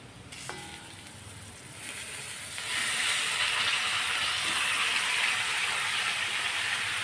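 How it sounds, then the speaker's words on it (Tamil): Half a kilo of cleaned chicken drops into a pan of onions already sautéed until glassy, and a loud, steady sizzle and hiss builds and then holds close up, with no one talking. "இப்போ ஒரு 1/2 கிலோ சிக்கன் க்ளீன் பண்ணி வச்சுருக்கேன், நமக்கு அது போடுவோம்"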